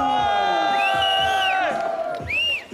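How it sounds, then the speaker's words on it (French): A crowd at a cross-country ski competition on Place des Dolomites in Val d'Isère cheers and whoops loudly and steadily for a competitor, with shouted voices rising above the sustained roar. "Je vous demande un maximum d'applaudissements pour Guillaume."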